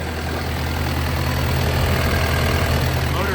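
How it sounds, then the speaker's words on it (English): A 2017 Takeuchi TL12V2 skid steer's warm diesel engine idles steadily and loudly, a dense continuous rumble with no voices. "Motor runs great."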